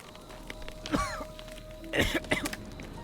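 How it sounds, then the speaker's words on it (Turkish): Two short, rough coughs or throat clearings, close and fairly quiet, separated by about a second over a faint background hum. "Neye öksürüyorsun ya?"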